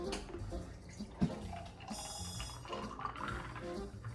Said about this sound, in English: here, we're gonna pour our OJ.